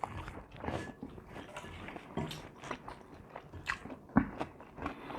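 Crisp fried green beans crunch as someone bites and chews them up close, a series of uneven crackly bites with one sharper crunch near the end, heard over soft background noise.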